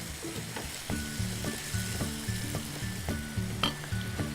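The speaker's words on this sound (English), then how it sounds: "So just stir everything in well." Potatoes with salt and turmeric fry in a pan on the stove, a steady sizzle broken by repeated scraping and clinking strokes of a spoon as they are stirred, close and clear with no voices.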